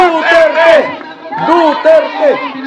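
Rally crowd loudly shouting and chanting the name Duterte in unison, two strong drawn-out chant bursts close and loud, voices rising and falling together.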